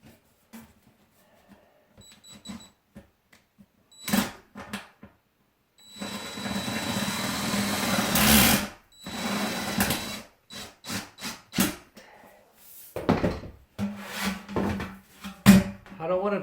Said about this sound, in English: Now, I'm going to take one of these screws, see if I can get this to grab a hold here.